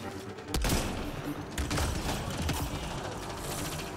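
Gunfire in the video game Mass Effect Andromeda: rapid mechanical bursts and clacking shots, with sharper cracks near the start and a continuous rattling barrage beneath, fairly quiet overall.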